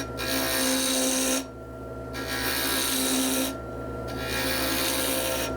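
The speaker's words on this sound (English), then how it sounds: "As I bring it down, you can see it starts to cut." Woodturning gouge cutting wood on a lathe in a workshop, a steady loud rasping scrape in two long passes separated by a brief drop to the quieter hum of the spinning lathe.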